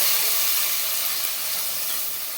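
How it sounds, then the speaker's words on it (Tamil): Tomatoes sautéing in hot oil while a spicy fish salna is cooked, giving a steady, loud, continuous sizzling hiss that holds even from start to end with no talking over it. "இப்போ தக்காளி கொஞ்சம் எண்ணெயிலே வதக்கிடணும்."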